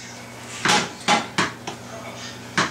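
A metal sauté pan is set down on a kitchen stove, giving a few sharp clanks and knocks spaced irregularly, close and fairly loud, with brief quiet gaps between.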